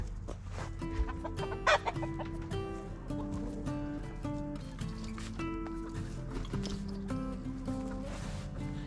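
Hens cluck and chatter continuously at close range, with occasional louder squawks from a rooster among them, in a busy, crowded coop.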